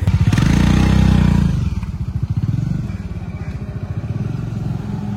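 A motorcycle just started after refuelling, its engine loud and close, rising in a brief rev and then settling into a steady low pulsing idle and ride.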